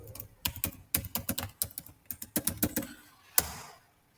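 A password being typed on a computer keyboard, a close run of quick key clicks in an uneven rhythm, ending with a single firmer keystroke after a short pause.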